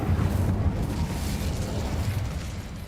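Incendio fire spell cast in Hogwarts Legacy: a continuous roaring, crackling burst of flame that holds steady for a few seconds, full and close without any talk.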